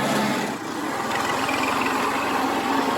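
A Kubota tractor pulling a disc harrow across a bumpy field, a steady mid-pitched engine drone with rattling vibration, fairly close and continuous with no talking.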